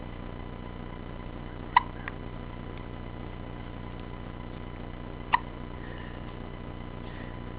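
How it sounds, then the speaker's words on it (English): Two sharp, loud hiccups ring out several seconds apart over a steady low background hiss, close to the listener and with no talking. "Those are some big hiccups."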